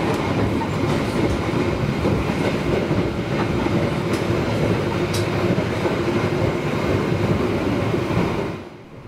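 Sembrani Pagi passenger train travelling from Jakarta to Surabaya: a steady, loud rolling rumble with continuous clickety-clack of wheels on rail joints, running unbroken before dropping away at the very end.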